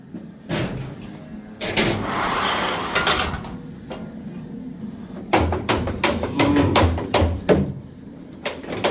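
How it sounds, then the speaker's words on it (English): A sliding door in a small animal shelter barn rattles and clunks open in a string of sharp knocks and scrapes, with a longer rumbling slide between the bangs. "Open the sliding door."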